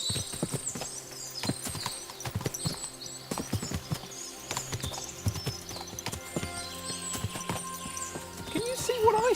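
Horses clip-clop steadily at a walk, many hooves overlapping close by, with talking and game-like ambience mixed in, from the video game Kingdom Come: Deliverance II.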